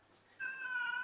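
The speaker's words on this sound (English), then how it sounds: "Is that your cat right there?" A cat gives one drawn-out meow, clear and fairly close, starting after a brief quiet moment and holding steady to the end.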